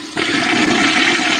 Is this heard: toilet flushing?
yes